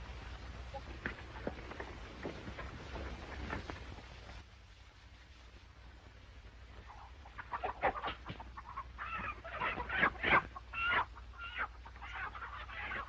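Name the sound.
rooster clucking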